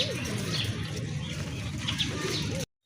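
A pair of Jak pigeons coos in repeated low throaty rolls, close by, with faint rustling and a possible wing flutter before it cuts off abruptly near the end.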